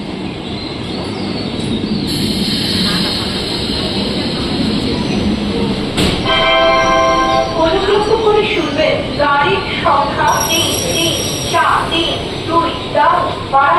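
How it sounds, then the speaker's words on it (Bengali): A commuter train on the Sealdah–Krishnanagar line pulls into a busy station with a rumbling approach and tonal horn or brake squeals growing louder. People chatter on the platform throughout. "আমাদের ট্রেন আসছে"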